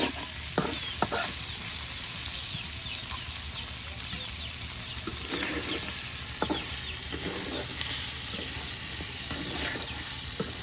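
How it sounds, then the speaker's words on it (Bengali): Duck meat with spices, a country duck cooked in a home kitchen, sizzles steadily in a pan, with repeated scraping stirs and occasional clanks of the spoon over a continuous frying hiss; no one speaks. "একদম সব কিছু সুন্দর করে ভেজে নেওয়া হলো।"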